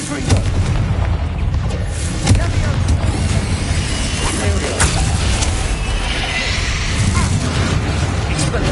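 A fire spell explosion in the Hogwarts Legacy video game: a dense, loud, continuous roar of booming, crackling blasts with sharp impacts, over game music and ambience.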